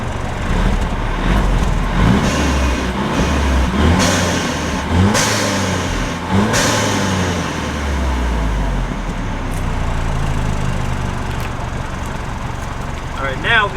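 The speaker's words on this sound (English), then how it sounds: "Now I'm going to do a few revs." A Mercedes E300 with its QTP exhaust cutout valve closed is revved several times, each blip rising and falling over a muffled idle, with brief talk in between.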